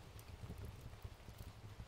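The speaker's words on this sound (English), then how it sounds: "Do you like the rain?" Steady rain falls outdoors in a forest, a soft continuous patter with low rumble and no voices.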